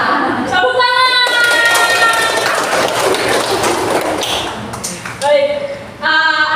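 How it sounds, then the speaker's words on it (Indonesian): A class of schoolchildren clapping hands together in a classroom, a dense wash of claps filling most of the moment, with children's voices calling and chanting over it near the start and end. "Tepuk tangan."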